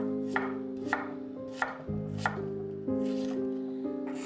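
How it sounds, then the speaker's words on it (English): A knife chops scallion and cilantro on a cutting board, several crisp evenly spaced strikes over soft background music, with no talking. "Chop them up together for a refreshing bite."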